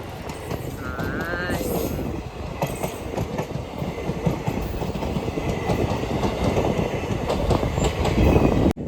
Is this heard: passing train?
yes